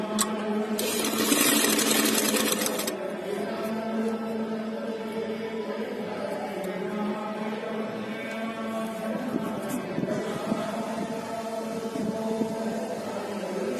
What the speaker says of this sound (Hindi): इस तरीके से ऐसे रखकर किनारी पे सिलाई लगाएंगे